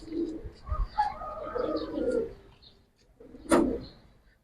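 Pigeons coo in soft, low rolling calls, a few close bursts separated by pauses, followed by a sharp knock.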